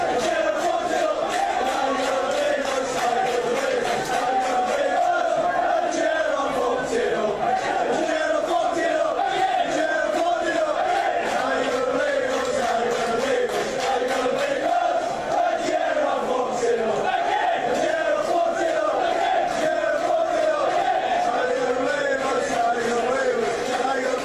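Football crowd chanting in a stadium, a dense, continuous roar of many voices singing together in a steady rhythm, distant and reverberant throughout.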